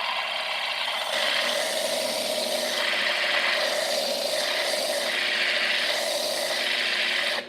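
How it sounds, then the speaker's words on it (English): An 8-inch diamond flat lap grinds gemstones for cabochons in a steady, continuous abrasive rasp and hum, with slight swells in intensity as the stone is pressed and shifted against the spinning disc. "we're using the high-tech diamond 8-inch all you need flat lap to grind down the stones"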